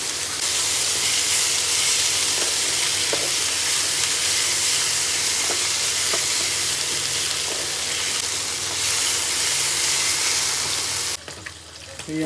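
Tomatoes fry in a pan of mustard fish curry, giving a steady, loud sizzle that holds through most of the stretch, with a few soft stirring clinks and a brief muffled handling noise at the end.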